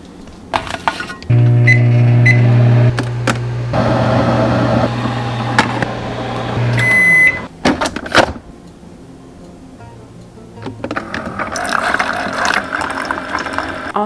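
A microwave oven heats a piece of keto breakfast casserole, with a loud steady hum running for several seconds, door clunks, beeps, and clattering handling sounds nearby.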